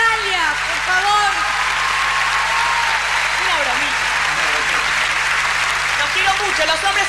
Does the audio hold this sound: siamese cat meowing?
no